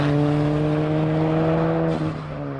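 Turbocharged Dodge Caliber SRT4 engine of nearly 300 horsepower, holding a loud, steady droning note up close that eases slightly toward the end.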